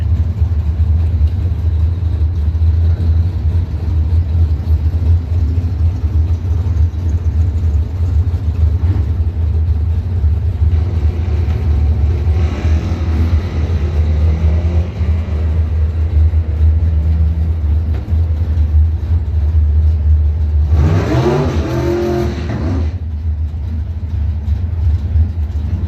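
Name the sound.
1995 Chevrolet S10 and Mustang drag racing engines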